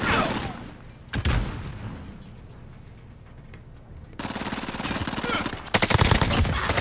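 Bursts of M4 assault rifle fire in the shooter game Modern Warfare, with rapid automatic volleys, a short gap of quieter game ambience, then louder sustained firing near the end.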